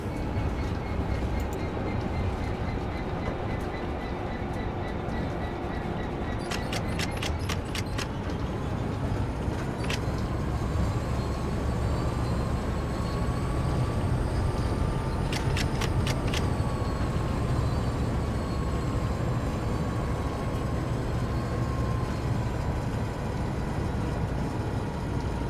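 A locomotive in Train Sim World 2 runs with a steady, loud engine drone and rumble, with brief high whines and clicking passes layered over the continuous sound.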